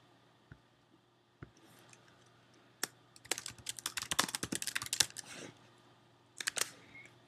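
Fingers type on a computer keyboard while filling out an online opt-in form: a few isolated clicks, then a quick burst of rapid keystrokes, and a final short flurry, close and fairly quiet with no talking.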